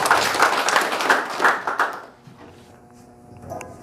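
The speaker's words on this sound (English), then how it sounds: "A round of applause" A round of applause from a classroom audience at a school math debate, brisk clapping for about two seconds that then drops away to a quiet room.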